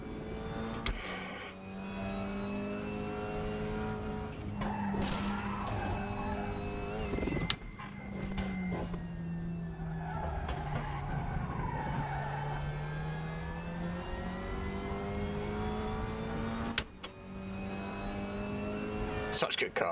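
Touring car engines drone and shift pitch through gears in the Raceroom racing game, with tyres scrubbing and squealing through corners, several cars close together, while someone talks steadily over the action.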